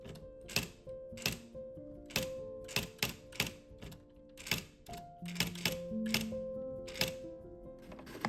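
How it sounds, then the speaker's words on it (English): Manual typewriter typing words onto paper laid over yellow watercolor: a close run of crisp, irregular key strikes with sharp clacks and short gaps, plus faint mechanical thunks and low hum between keystrokes. "I typed these words over the yellow watercolor."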